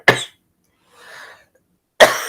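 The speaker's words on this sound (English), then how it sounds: "So sorry about this coughing." Two sharp coughs from a woman during a spoken chat, one at the start and another about two seconds later, with a faint murmur between them.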